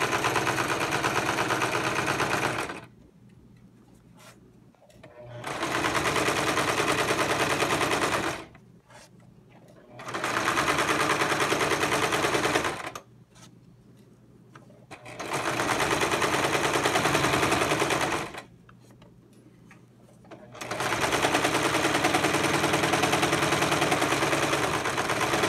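A sewing machine stitches a fabric hem on a jingle dress in five loud, sustained bursts of rapid mechanical whirring, each a few seconds long, separated by short near-silent pauses.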